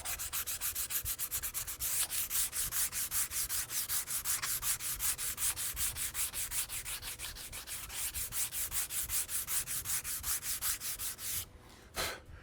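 Sandpaper rubs by hand along the wooden stock of a Remington Model 81 rifle in rapid, rhythmic back-and-forth strokes, close and steady for about eleven seconds before pausing.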